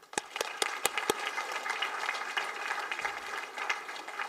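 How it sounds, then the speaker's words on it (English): An audience at a university convocation applauds the awardees. A few sharp, distinct claps open the passage, then softer, scattered clapping continues at a moderate distance. "A round of applause for all of them."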